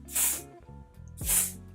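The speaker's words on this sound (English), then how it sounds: "I'm gonna go in with the spray." Two short bursts of hair spray hiss close up over lace wig adhesive, each about a third of a second, separated by a brief pause, with faint handling sounds underneath.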